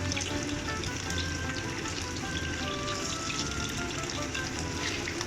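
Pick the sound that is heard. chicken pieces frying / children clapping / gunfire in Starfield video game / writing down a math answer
chicken pieces frying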